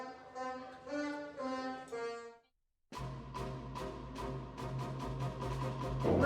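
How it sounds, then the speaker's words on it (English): A child plays saxophone: a few sustained, evenly spaced notes, a brief silence, then a quicker run of articulated notes growing louder, with no talking. "And what does the saxophone sound like?"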